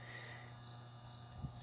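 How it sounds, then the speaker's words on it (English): Cricket chirping steadily outdoors at a faint, continuous level, with repeated short high trills over a low background hum and no talking. "Shut up, cricket."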